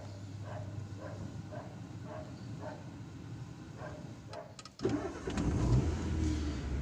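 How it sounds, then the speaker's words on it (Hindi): A car's engine cranks and catches, turning over after a few seconds of quiet idle noise and then settling into a steady, fairly loud running rumble, with the handbrake up. "हमारी हैंड ब्रेक ऊपर है तो हम गाड़ी को स्टार्ट करते हैं।"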